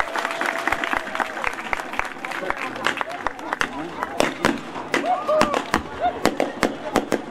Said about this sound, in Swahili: Makofi kidogo wako, asante